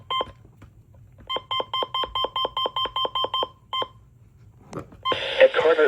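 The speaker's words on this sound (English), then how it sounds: "these are the button beeps" A weather radio gives a run of about a dozen short, evenly spaced electronic button beeps, close and clear, followed by a couple more, then a burst of noisy broadcast sound over a low background hum.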